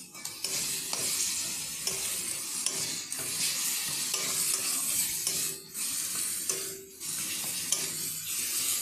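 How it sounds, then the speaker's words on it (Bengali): Tomato paste cooking down with spices in a pan for a Bengali broccoli fish curry, a loud bright sizzle broken by repeated spatula stirs and brief dips, near and without talk. "একটা টমেটো পেস্ট দিয়ে দিচ্ছি"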